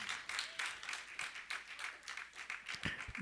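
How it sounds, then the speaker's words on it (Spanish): A church congregation clapping during a sermon, a quiet, distant patter of hands with uneven bursts and a faint voice underneath. "Dale palmas al Señor."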